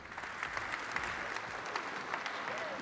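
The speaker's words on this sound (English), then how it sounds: "a big round of applause" Audience applause at a live event where a chef is honoured, steady clapping filling the room throughout at moderate loudness, with a faint murmur of crowd underneath.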